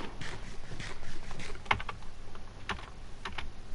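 Computer keys clack in quick, irregular bursts during Minecraft multiplayer, close and crisp, with one sharper keystroke standing out partway through.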